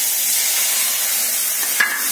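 Prepared spice paste sizzling in a hot pan as it goes in, a steady close hiss of frying with a small spatter or stir near the end.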